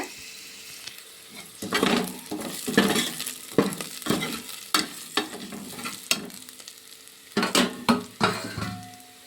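Onions fry in oil in a pan for a village-style avarekalu saaru, a soft constant sizzle punctuated by repeated scraping stirs and light clinks of a spoon against the pan.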